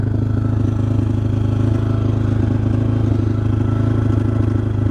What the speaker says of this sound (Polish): Chociaż silnik normalnie chodzi